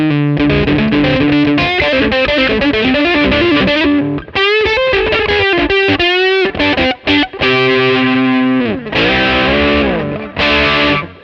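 Distorted electric guitar run through a Minson M8 King Brown pedal with compression and reverb, playing loud sustained melodic lines and bends with brief gaps, no talking.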